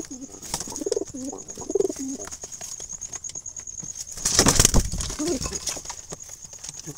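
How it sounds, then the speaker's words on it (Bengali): Black Jalali wild pigeons in a coop give soft, low coos in short repeated bursts, faint under a steady high hiss, with a louder rustling clatter in the middle. "কালো জারালি বুনো কবুতর"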